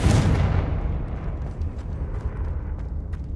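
A Confringo blasting spell going off in a Harry Potter video game, one heavy close explosion with a sharp onset and a long rumbling decay fading over a few seconds.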